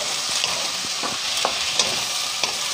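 Shrimp fry in a home kitchen pan, a loud, close sizzle broken by sharp clicks and scrapes from a utensil stirring every half second or so, with no one talking.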